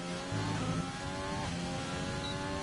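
A McLaren race car circling a track on a gloomy day, its engine a loud, steady, close drone that shifts pitch slightly as it accelerates and eases off, with no talking.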